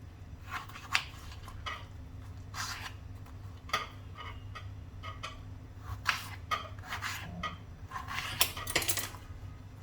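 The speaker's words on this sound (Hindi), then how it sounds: "इसके थोड़े मोटे मोटे पीसेस करेंगे इस तरह से।" A peeled potato is sliced into thick pieces with a knife, giving a series of close, sharp cutting knocks at irregular intervals, some in quick clusters, over a low steady background hum.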